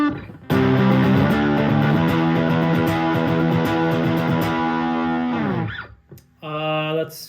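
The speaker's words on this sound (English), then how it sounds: "get like a really nice distorted sound, but without so harsh and cutting" An electric guitar through a ProCo Rat distortion pedal rings out in sustained, fuzzy chords for several seconds, cuts off briefly, then another distorted chord starts.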